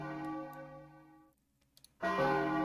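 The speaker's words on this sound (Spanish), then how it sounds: "vamos a tocar la campana tres veces" A church bell in the Roblox game Brookhaven rings in a sustained, resonant tone that decays and fades to near silence, then a fresh loud strike bursts in at the end.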